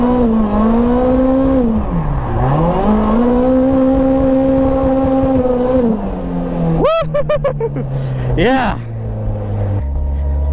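Toyota Corolla AE86 drifting on a tight, technical competition track, its engine loud and continuous with rising and falling revs, plus a couple of sharp higher whines near the end; a voice speaks briefly.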